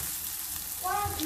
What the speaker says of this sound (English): Let it fry while we get the water.